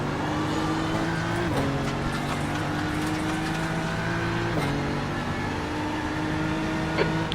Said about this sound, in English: It's a car exiting the pits.